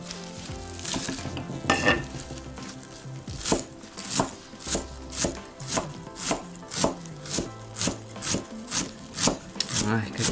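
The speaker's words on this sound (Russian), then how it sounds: "Все это мелко нарежем." A knife chops garlic, dill and green onion on a board in steady, evenly spaced strikes. The sharp taps pick up into a brisk regular rhythm, close and clear with no talking.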